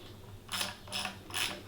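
A bolt on an ebike, with a crush washer and a 10 mm bottom piece, is tightened in three short metallic ratcheting bursts, close and fairly quiet.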